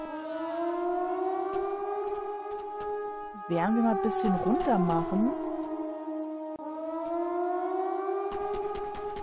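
Wailing siren in the train-ride video game Zompiercer, a long steady rising tone that gives way to a warbling middle stretch before the steady wail resumes. It is loud and continuous, with someone talking over it.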